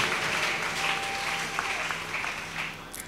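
A church congregation breaks into applause, a steady dense patter of many hands clapping together that holds evenly throughout with no voices over it.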